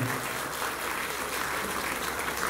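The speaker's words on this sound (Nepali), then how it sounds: "आदरणीय व्यक्तित्व भोजराज लिम्बुज्यूको नाममा एकपटक जोरदार ताली दिनु।" A crowd at a film grand premiere in Hong Kong claps loudly and steadily, dense applause filling the whole moment without a break.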